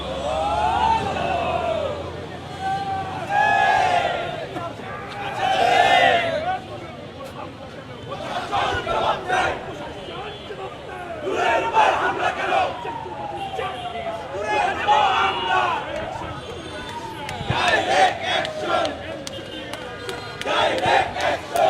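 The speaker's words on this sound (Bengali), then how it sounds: "তারা বিভিন্ন স্লোগান দিচ্ছেন নুরুর উপর হামলার প্রতিবাদে।" NCP leaders and protesters chant slogans outside their central office at Bangla Motor in Dhaka, rhythmic call-and-response shouting from a crowd, loud and near, with rising and falling voices and background street noise.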